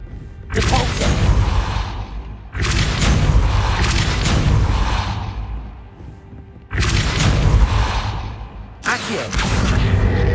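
A Depulso spell fires in the video game Hogwarts Legacy on PS5, making three loud, booming blasts, each a broad roaring burst lasting a couple of seconds before it decays, with short gaps between them.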